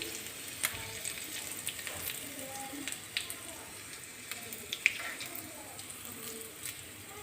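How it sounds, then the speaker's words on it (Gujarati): Hot tempering of mustard seeds, cumin, sesame, curry leaves and chillies poured over rolled khandvi, giving a soft steady sizzle with a few faint pops, alone at low level. "અને હવે આ વઘારને આપણે ખાંડવી ઉપર રેડી દઈશું"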